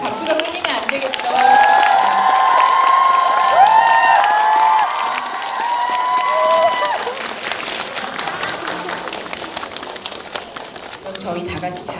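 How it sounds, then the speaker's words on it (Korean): Fans keep applauding and screaming for a film director and actors at a movie promotion talk event, shrill cheers over clapping that later settles into steadier, thinner applause. "박수가 끊이면 안 되겠죠."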